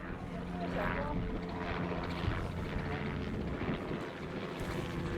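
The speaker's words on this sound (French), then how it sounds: "survol en hélicoptère" A steady, loud rotor and engine drone of a sightseeing helicopter flying over the Aso volcano area in Japan, with voices faintly audible beneath the continuous roar.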